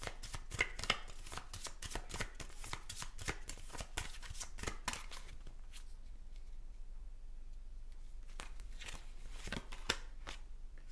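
A playing card is handled and turned over during a card reading, giving a run of quick papery flicks and shuffling snaps that thin out midway and return briefly near the end, close and quiet.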